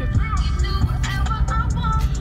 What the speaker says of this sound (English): I'm in the car on the way there.